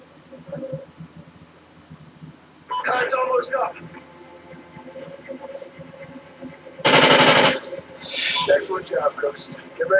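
Video game gunfire crackles in short automatic bursts, with one loud dense volley standing out among quieter shots, while players talk over it.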